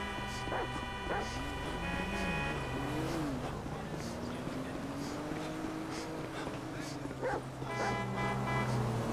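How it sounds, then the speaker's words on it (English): A dog in the video game GTA V barks and yips repeatedly as it is chased through city streets, with car engines and sirens droning underneath and voices speaking at times. "It's a guy chasing a dog!"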